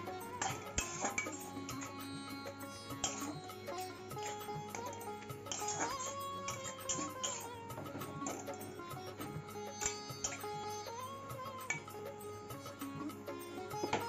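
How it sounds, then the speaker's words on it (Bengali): A pot of home-grown leafy greens being cooked: the lid comes off and the greens are stirred, giving intermittent metallic clinks and scrapes of utensil against pot, fairly quiet and close, with no speech. "এবার ঢাকনা খুলে ভালো করে নাড়িয়ে নিচ্ছি।"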